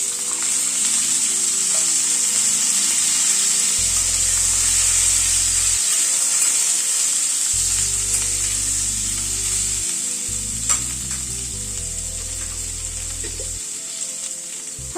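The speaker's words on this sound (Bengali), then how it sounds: "ফোড়নটা একটু ক্র্যাক করানোর পরে সবজিগুলোকে দিয়ে দিচ্ছি" Mixed vegetables sizzle and fry steadily in hot oil after a tempering of nigella seeds and asafoetida for moong dal, a loud continuous hiss with occasional stirring clatter throughout.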